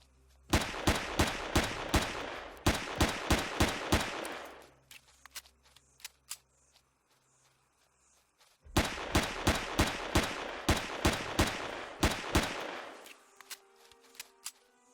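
Gunfire in the space survival game Empyrion: Galactic Survival, two close volleys of rapid evenly spaced shots, each several seconds long, separated by a quiet pause with faint scattered sounds.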